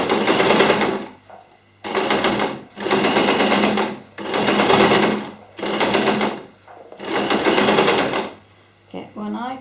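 A sewing machine stitches over a fabric loop on a recycled-denim jeans bag in five loud, rapid, whirring bursts separated by short pauses.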